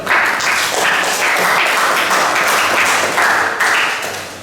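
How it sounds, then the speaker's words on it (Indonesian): Students in an Indonesian history classroom give a round of applause, loud, close and sustained, with claps rising and falling in uneven waves before easing off at the end. "Kita berikan tepuk tangan dulu."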